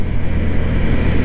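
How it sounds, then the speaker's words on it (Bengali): A Honda CB 125 Hornet motorcycle cruising at about 55–60 km/h on a road gives a steady, loud low engine drone with wind rumble, continuous and close, with no talk. "ভাই আমি বাইক চালাচ্ছি 55-60 স্পিডে"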